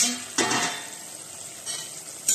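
Ingredients sautéing in oil in a pan, a soft steady sizzle broken by three bursts of stirring and scraping, fairly quiet and close, with no talk.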